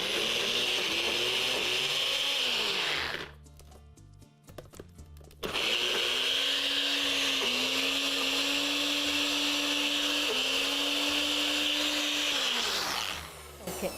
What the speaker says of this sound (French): on va venir mélanger notre sauce tonato.